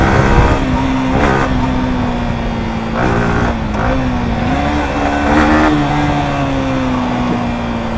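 A Yamaha R15 V4 or Bajaj RS200 motorcycle accelerates hard in a drag race, its engine note climbing steadily through shifts, loud and close, with brief dips between gears and no talk.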